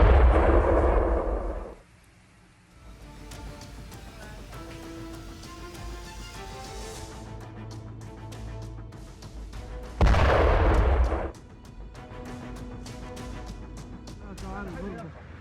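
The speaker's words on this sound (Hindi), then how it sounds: "चीन के झेजियांग प्रांत में बड़ा धमाका।" Explosions on a container ship in Zhejiang, China: two heavy, loud booms several seconds apart, each followed by rumbling, with speech in between.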